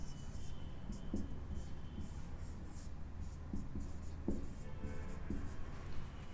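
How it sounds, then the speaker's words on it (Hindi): Chalk or marker strokes on a board as a teacher writes out a family-tree problem, a few short scratchy bursts spread across the clip against a quiet room background. "तो यहाँ पे लिखता हूँ मधु"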